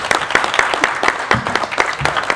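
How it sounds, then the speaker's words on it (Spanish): An audience at a circus-world TV gathering applauds a table of guests, with brisk, loud, distinct claps in a quick rhythm. "aplauso. ¡Bravo, bravo, bravo, bravo!"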